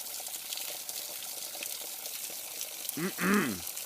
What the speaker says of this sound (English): getting a fill up on some moss water dripping down the creek